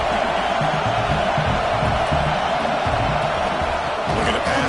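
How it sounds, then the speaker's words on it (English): Home crowd at an LSU college football playoff first-round game against Sam Houston, a steady loud stadium roar with cheering sustained throughout, dense and continuous without breaks. "this home crowd is fired up and ready to make a difference"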